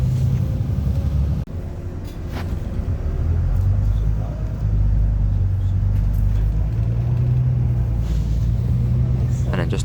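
Inside a Volvo Gemini 2 double-decker bus on Metrobus route 271, the engine drones and rumbles as it drives through a village, with a brief jolt early on and a voice talking over the noise.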